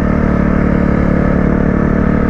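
A 2021 Suzuki RM-Z250 dirt bike riding a dirt road, its engine droning loud and close at a steady high pitch, with no change in revs over the short stretch.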